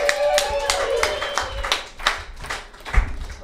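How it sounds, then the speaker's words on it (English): A live podcast crowd at a bodysurfing event claps for a comedian, with distinct hand claps and loose, uneven bursts over low thumps and some voices, fairly close and sparse rather than a full wash. "Please give a loud round of applause for Finn Padman."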